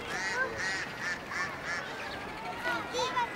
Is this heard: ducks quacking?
yes